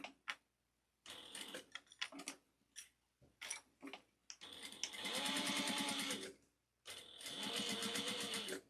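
A sewing machine closes a recessed zipper pouch. It starts with short stop-start bursts of ticking stitches, then settles into two longer, steady, close runs of rapid stitching.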